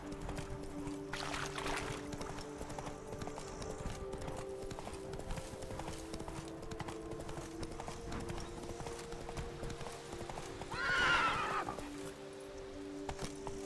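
Steady hoofbeats of a horse galloping in The Witcher 3 video game, a continuous rhythmic clip-clop under an ambient game soundscape, with a short whinny near the end.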